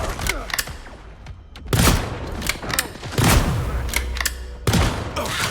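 Video game gunshots ring out as several sharp, loud cracks with booming tails, spaced irregularly across a few seconds against a noisy battle background, with voices faintly underneath.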